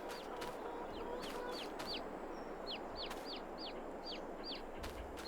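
Chickens in Farming Simulator 22, a rooster among hens, making repeated short clucks and chirps over steady coop ambience.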